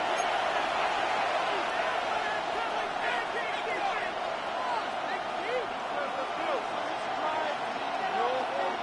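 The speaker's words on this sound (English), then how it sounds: "The crowd making their presence felt." A football stadium crowd roars in a constant, dense wash of noise that stays level for the whole stretch, with a commentator's voice talking over it.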